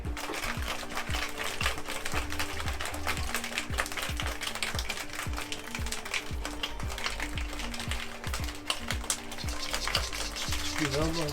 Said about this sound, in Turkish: Şimdi güzelce karıştırıyoruz ya son